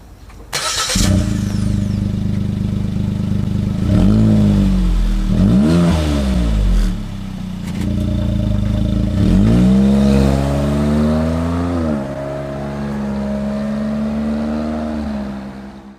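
Suzuki Jimny JB64W fitted with a Ganador GDE-158 aftermarket muffler at low speed, starting up then giving a deep, throaty exhaust drone with three distinct revving swells, loud and close with no other sounds.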